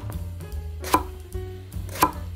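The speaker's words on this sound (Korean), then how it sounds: "이렇게 잘라서 동글동글하게 썰어주세요" A knife cuts eggplant into round slices on a cutting board, giving two distinct, solid chops about a second apart over a low background hum, close and clear.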